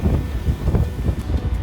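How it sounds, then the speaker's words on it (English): Wind buffets the microphone on a rainy street in Dublin, a steady low rumble with gusty swells and no voices. "It's raining, it's a little windy,"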